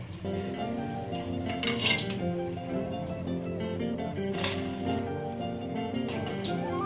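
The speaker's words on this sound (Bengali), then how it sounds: "এইভাবে একটা স্টিলের ছাঁকনি দিয়ে ছেঁকে তুলে নেবে।" Steel strainer clinking against a pan while crispy fried phuluri fritters are lifted out of hot oil, with repeated metallic clinks and scrapes over a steady background with music-like tones.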